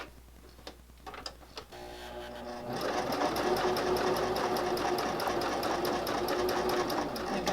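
A sewing machine backstitches over the start of a seam on a fabric corner bookmark. A few soft handling taps come first, then the motor runs loud and steady with rapid even stitching.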